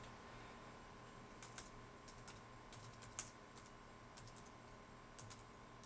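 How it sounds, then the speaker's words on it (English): Someone types on a PC computer keyboard, a few quiet clusters of key clicks spread over a steady background hum, faint and close. "I'm going to type hello world from the PC."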